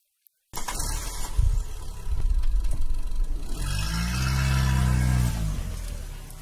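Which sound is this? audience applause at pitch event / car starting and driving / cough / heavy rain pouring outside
car starting and driving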